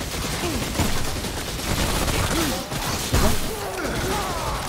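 Rapid bursts of gunfire fill a round of the video game Remnant, dense and continuous, mixed with mechanical clatter and impacts while a voice speaks over the shooting.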